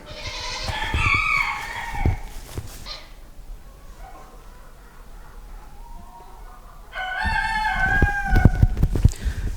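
Minorca chickens squawk and cluck loudly in two noisy bursts, separated by a quieter stretch of softer clucking nearby.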